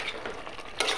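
Taro pieces stirred together with fish head in a pan, a brief soft sizzle with a scrape of the spoon and a sharper clink near the end, close up with no voices.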